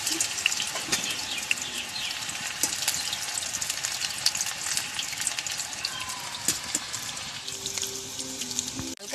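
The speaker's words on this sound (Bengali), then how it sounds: "বেগুনগুলো আমি অল্প অল্প করে সাদা তেলে ভেজে নেব।" Eggplant pieces fry in white oil in a wok, giving a steady, dense crackling sizzle that carries on throughout, with a brief clatter near the end.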